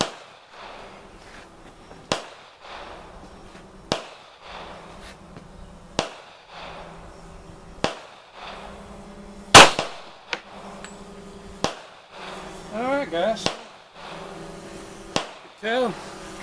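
Gunshots from a .40 caliber handgun fired into a stack of wooden boards, about eight sharp loud cracks spaced roughly two seconds apart at close range, with occasional voices between shots.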